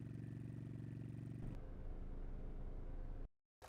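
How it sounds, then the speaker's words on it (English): A steady car engine sound effect idles and rumbles, shifting to a rougher, louder running tone midway, then cuts off abruptly before a brief restart. "I think I like car engine number 5."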